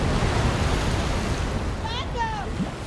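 Tumultuous ocean waves from the film Roma, a loud, steady roar of surf and rushing water that eases slightly toward the end, with faint tonal sweeps rising over it.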